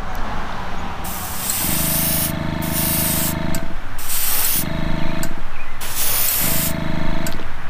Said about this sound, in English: I always do a quick little test spray to make sure everything's working.